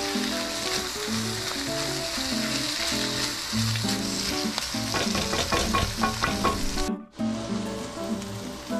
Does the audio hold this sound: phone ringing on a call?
no